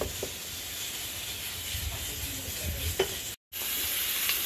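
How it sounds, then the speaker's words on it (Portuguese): Pork ribs cooking in a pot give a steady close hiss and bubbling sizzle with a few soft clinks and stirring knocks, alone with no talk. "A carne já tá cozinhando,"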